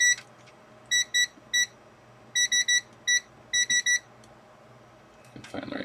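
A handheld multimeter beeps in short bursts while checking LED polarity on a capacitor discharge box build, the tones coming in uneven clusters of two to four quick beeps, close and clear over a quiet room.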